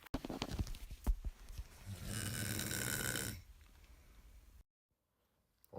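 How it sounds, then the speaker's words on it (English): A person snoring during a sleepover, with a single drawn-out rasping snore in the middle, preceded by soft rustling and thumps and followed by near silence. "I just want to let you know I snore a little bit"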